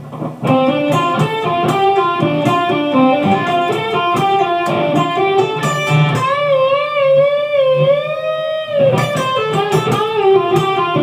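Played slowly on distorted electric guitar, a section of a solo moves through sustained fretted notes into a long wavering vibrato bend, then resumes a steady run, loud and close with no voices.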